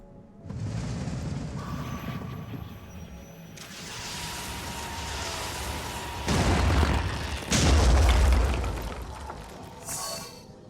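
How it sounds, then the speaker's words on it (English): A missile explodes in the Phoenix Point game, producing deep booming blasts, with two heavy bursts landing a second or so apart amid rumbling aftermath. "And I think this missile is gonna go about here."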